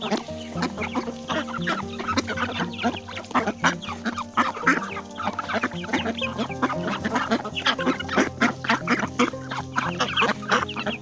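A flock of Pekin ducks quacks in a barnyard, loud and close, with overlapping calls in busy bursts and fowl clucking mixed in throughout.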